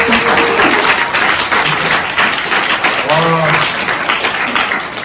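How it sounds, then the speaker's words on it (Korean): Steady applause from an audience at a debate festival closing ceremony fills the clip, with a brief spoken exclamation over the clapping. "그냥 박수"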